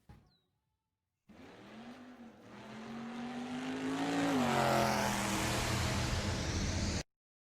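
Race car engines rev NASCAR style, a low engine note that climbs and builds in loudness into a roaring, rising rush before cutting off abruptly, with no talking.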